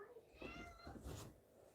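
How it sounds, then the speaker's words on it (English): A house cat gives a faint, brief meow close by, soft and slightly drawn out against quiet room noise. "You scared me, cat. I just thought you were meowing there."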